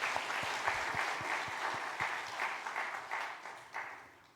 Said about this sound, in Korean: 우리 크게 박수하며 감사하겠습니다